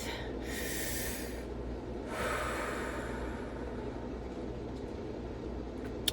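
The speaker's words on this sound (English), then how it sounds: "Just breathe." Deep breaths drawn and released slowly, close and audible, with long airy inhales and exhales over a steady background hum inside a homemade campervan.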